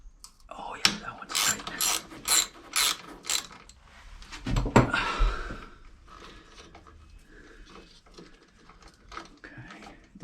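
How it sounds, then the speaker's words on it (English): A ratchet wrench loosens a bolt on the ignition coil of a 2001 Kawasaki Vulcan Nomad 1500cc motorcycle: several quick, close ratcheting bursts, a heavy clunk, then quieter scattered clicks and handling noises. "now I'm going to take the bolt out"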